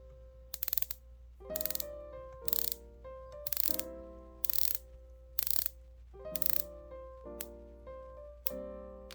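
A Tudor Black Bay 58 Blue dive watch bezel is turned in short bursts, each a rapid run of crisp metallic ratcheting clicks, close and clear with brief pauses between turns.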